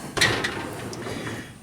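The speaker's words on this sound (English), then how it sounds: "And of course, you got this bottom drawer." Bottom drawer of a US General 44-inch Series 2 metal toolbox sliding open or shut, a close rolling scrape starting with a sharp clack and then fading into a quieter rumble.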